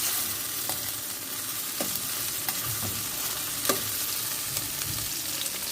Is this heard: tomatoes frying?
yes